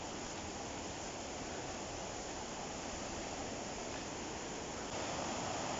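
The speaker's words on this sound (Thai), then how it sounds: "สายน้ำตกก็เสียงดังมากนะ" Steady, dense roar of a waterfall, constant and full-bodied from start to finish, with no voices.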